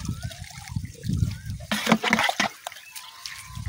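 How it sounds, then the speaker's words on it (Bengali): Water poured onto dry soil around newly sprouted pumpkin seedlings makes a brief splashing trickle in the middle, with quieter handling and outdoor rustle around it. "তো এইখানেও পানি দিয়ে দিই, দেখা যাক যদি জ্বালাই যায়।"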